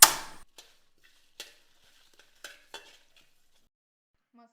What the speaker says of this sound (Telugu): ఇప్పుడు మనం ఇది ఫ్లేమ్ ఆన్ చేసి లో ఫ్లేమ్‌లో మనం ఇది బాగా రోస్ట్ చేద్దాం